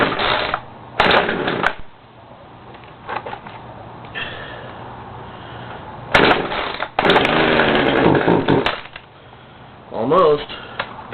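Poulan chainsaw cold start: repeated sharp pull-cord rips in bursts, with short sputtering engine catches that die out again, loud and close, with a person talking between pulls.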